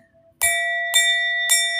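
Three clear strikes of a small bell, each with a bright attack and a long sustained ring that overlaps the next, evenly spaced, close and loud, with no talking.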